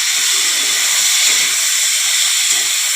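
Steam rushes from a cooking pot of vegetarian curry with drumsticks, eggplant and potatoes as its lid comes off, a loud, continuous hiss with a few soft low clinks underneath.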